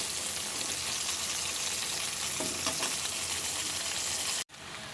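Steady broadband sizzling of yardlong beans and potatoes frying in hot oil, continuous and fairly loud, cutting off abruptly near the end.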